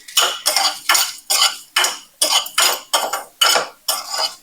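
Dry red chilies, a piece of cinnamon and black pepper are dry-roasted in a pan for bisi bele bath. About ten loud, evenly spaced scraping strokes of a utensil against the pan sound close up, with no talk.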